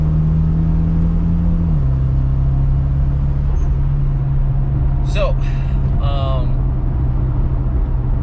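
A car cruises on the highway with a steady, loud engine and road rumble; a voice-like chirp briefly rises over the drone midway.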